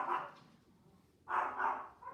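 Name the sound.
dogs barking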